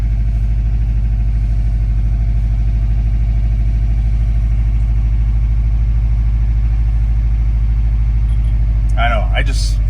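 A 2005 Subaru Forester XT idles steadily as it warms up, a low continuous engine hum held at an even level throughout, with a brief higher-pitched sound near the end.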